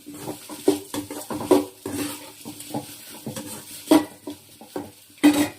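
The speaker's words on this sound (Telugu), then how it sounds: "ఉల్లిపాయలు మగ్గాక ఇట్లా చామదుంపల్ని చిన్న చిన్నగా ముక్కలు కట్ చేసుకొని వేయించుకోవాలమ్మా" Small pieces of taro root fry with onions in a pan: close, irregular clinks and scrapes of stirring over a faint sizzle, with no talking.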